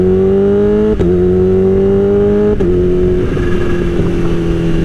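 A motorcycle engine holds a loud, steady drone close by, with brief sharp breaks as a quick shifter snaps through upshifts about twice in quick succession, the pitch dropping slightly after each change.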